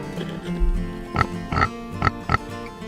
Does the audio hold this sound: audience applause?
no